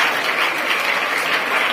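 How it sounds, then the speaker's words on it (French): An audience at a teenagers' church gathering breaks into loud, sustained applause, a dense steady clatter of clapping with no voices on top. "Acclamons"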